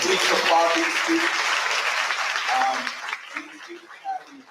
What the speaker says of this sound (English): Please applaud these students.